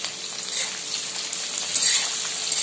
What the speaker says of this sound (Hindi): प्याज भूनने में 4 से 5 मिनट लग जाएगा, इसे थोड़ा ब्राउन कर लेंगे